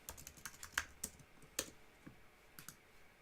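Name being typed on a computer keyboard, a quick run of close, crisp key clicks at an uneven rhythm, with a few sharper strikes standing out and no voices.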